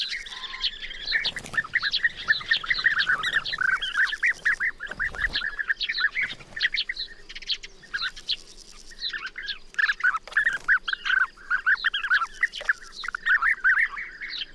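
A colony of bee-eaters calls in dense, overlapping trills and chirps, many birds chattering at once in rapid bursts with brief lulls, fairly close and busy throughout.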